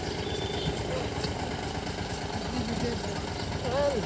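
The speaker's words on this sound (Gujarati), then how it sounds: "અને આ ત્રીજું ટ્રેક્ટર છે" A tractor engine idles steadily in a rural village setting, a constant low mechanical drone with faint voices briefly audible near the end.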